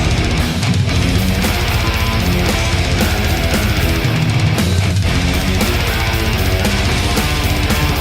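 A death metal guitar riff, dense and loud throughout, with heavily distorted tremolo-picked guitar over pounding low-end drums in a fast, unbroken rhythm.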